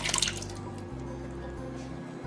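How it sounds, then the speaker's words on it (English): Raw beef tipped from a container into a crock pot, a short wet splat and slide at the start that fades into low kitchen room hum. "I'm gonna go ahead and just dump my beef in"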